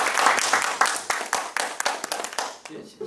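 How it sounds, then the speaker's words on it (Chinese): A live show audience claps to welcome a guest, a dense patter of many hands that keeps going and then thins out toward the end, with no voices on top. "所以我们先鼓掌哈，我们先欢迎吴子嘉董事长介绍一下那今天最新的民调结果"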